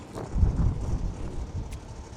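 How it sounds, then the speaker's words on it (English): Wind blows outdoors beside a hot dog stand, a continuous low rumbling buffet across the microphone with no voices. "It's really windy out here today."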